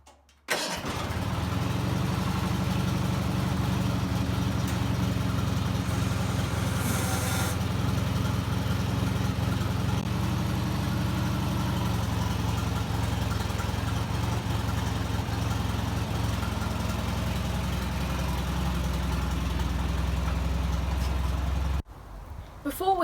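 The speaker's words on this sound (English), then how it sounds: "start up the tractor and lift up the deck" A Bolens lawn tractor engine runs steadily at idle, a continuous low rumbling chug that holds for the whole stretch before cutting off near the end.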